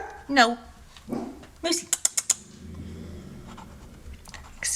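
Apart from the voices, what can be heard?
dog barking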